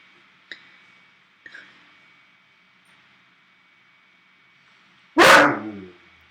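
A dog gives two short, sharp barks close by, followed after a pause by a louder, longer bark-like yelp, all in an otherwise quiet room.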